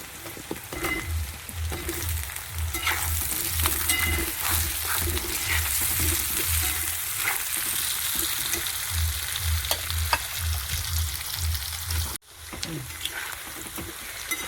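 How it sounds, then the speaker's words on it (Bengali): Potato pieces and onion frying together in a hot pan, a steady crackling sizzle running throughout with faint clinks of stirring, while a low rhythmic hum pulses underneath; the sizzle briefly cuts out near the end. "একটা আলু দিয়ে দিচ্ছি, ওটার সাথে ভেজে নেব।"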